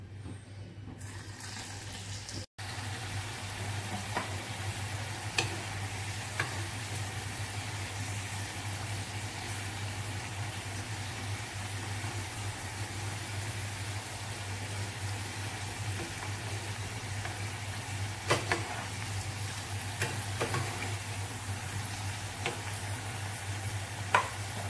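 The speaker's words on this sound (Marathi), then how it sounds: "आता उरलेल्या वड्या सुद्धा मी अशा प्रकारे फ्राय करून घेत आहे" Colocasia leaf rolls, alu vadi, fry in hot oil with a steady, even crackle running unbroken and fairly close, joined by a few faint clinks along the way; nobody speaks.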